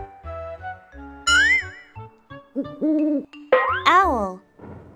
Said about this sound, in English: That is an owl.